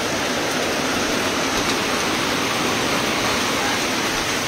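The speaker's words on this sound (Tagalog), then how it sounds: "Lakas ng ulan." Heavy rain pours onto a metal sheet roof of a house, a dense, constant roar of drumming that fills the whole stretch with no break.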